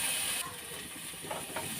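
Tomatoes sizzle as they sauté in a pan with onion and garlic for a vegetable coconut-milk dish with lemongrass, a steady close hiss and crackle.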